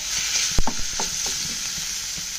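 Onion, ginger and garlic sizzle in oil in a pan, a close steady hiss broken by a few clinks and scrapes of stirring.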